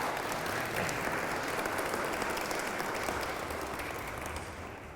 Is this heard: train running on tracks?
no